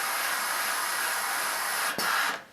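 A spray bottle mists water onto a cotton uniform shirt during ironing, a steady close hiss for about two seconds followed by a brief second burst.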